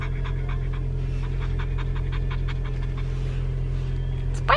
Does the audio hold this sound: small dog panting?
yes